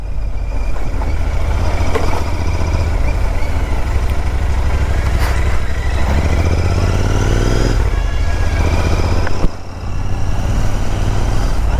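A Royal Enfield Interceptor 650 motorcycle with handlebar risers rides along a main road, its engine a steady, loud, continuous drone with a brief dip near the end.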